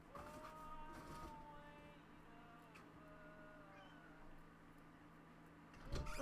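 A pet cat indoors gives soft, drawn-out meows through most of the stretch, faint and somewhat distant, ending in a brief rustling thump.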